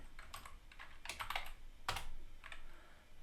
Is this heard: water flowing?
no